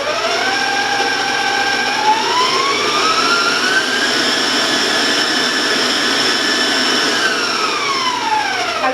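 Electric stand mixer with a paddle beating cupcake batter for coconut cupcakes, a loud steady motor whine with shifting pitch, continuous and close, no talking.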